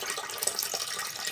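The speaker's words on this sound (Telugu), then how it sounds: "ఇట్లా చల్లనీళ్ళు పోసుకొని ఇవన్నీ ఒలుచుకోవాలి" Cold water runs steadily from a tap over freshly boiled food in a kitchen, a continuous hissing splash that stays close and fairly even throughout.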